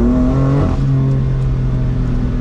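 A BMW 435i with a tuned engine revs while driving, a loud close growling pull that changes pitch as power comes off, with no one talking.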